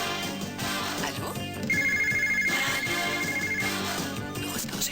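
A telephone rings twice for a TV sports channel phone-in competition, a loud electronic trilling bell over a busy background bed, with voice-like sound around it.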